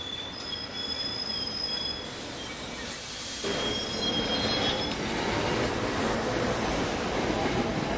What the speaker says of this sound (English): We just filmed the train